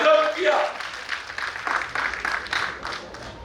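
Audience applause at a water conference festival session in Dhamtari, Chhattisgarh: a brief voice gives way to a steady wash of clapping from a crowd that lasts for several seconds at moderate loudness.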